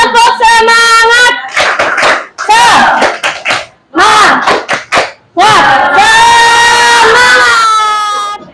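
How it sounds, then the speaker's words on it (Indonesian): Classroom of children doing a rhythmic spirit clap, bursts of patterned hand claps alternating with loud group chanting and shouts, close and energetic. "Tepuk semangat dulu dong, tepuk semangat."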